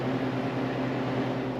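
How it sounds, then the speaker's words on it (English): A home freeze dryer starts its drying process, giving off a steady mechanical hum with a low motor drone and a constant airy whir. "I put it on the freeze dryer trays before putting it in the freeze dryer and starting the drying process"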